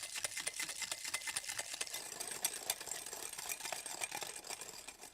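Egg yolks whisked by hand in a bowl until lighter and fluffier, with a quick, steady rhythm of soft clinking taps against the bowl, fairly quiet and close, with no voices.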